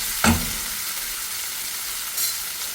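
Tomatoes cooking in a hot pan give a loud, steady frying sizzle, with a sharp clatter near the start and another brief stir toward the end, no talk.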